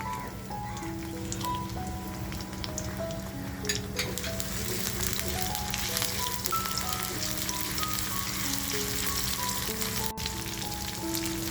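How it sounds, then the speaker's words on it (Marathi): Chopped garlic and chilli frying in hot oil, a loud, continuous crackling sizzle close up that holds steady throughout, with faint background music. "आता जी लसूण आणि मिरची घेतली आहे कापून ती टाकूया आपण तेलामध्ये"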